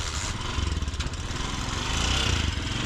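Small motorcycle engine running close by, a steady pulsing putter with rhythmic throbs that rise and fall slightly in loudness, with no talk over it.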